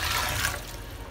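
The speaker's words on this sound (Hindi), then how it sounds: "तो फटाफट से पानी को हम लोग फेंक देते हैं" Water from a fish tank being tipped out and splashing, a steady broadband rush that stays loud for about a second and eases slightly toward the end, with no voices.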